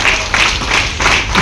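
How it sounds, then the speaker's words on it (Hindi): Audience at a health and wellness product program clapping in a dense, loud burst of applause that pulses in waves throughout, close and filling the room. "एक बार खुद के लिए जोरदार तालियां जरूर बजाएं।"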